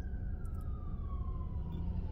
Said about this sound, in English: Oh, we got another ambulance coming.